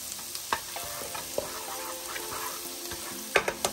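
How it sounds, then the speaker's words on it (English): Garlic sizzles steadily in a hot pan while a utensil stirs it, with a few sharp scraping clicks scattered through and a cluster of louder knocks near the end; no one speaks. "Stir it up a little, just a few seconds, because you don't want to burn the garlic"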